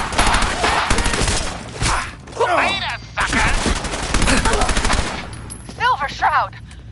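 Rapid bursts of gunfire in the Fallout 4 video game crackle loud and close in repeated volleys, broken by short pauses and shouted voices.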